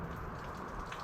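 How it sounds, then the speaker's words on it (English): Rain falling during a walk into a thunderstorm, a steady, soft patter and hiss of drops hitting surfaces, fairly faint and even with no voices. "I haven't seen rain like this in a long time"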